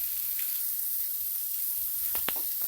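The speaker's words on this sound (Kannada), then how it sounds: "ಈಗ 2 ನಿಮಿಷ ಫ್ರೈ ಮಾಡ್ಕೊತೀನಿ ಇದನ್ನ." Chopped onion and tomato fry in a pan on a gas stove with a steady, close sizzling hiss throughout, and a few brief stirring scrapes near the end.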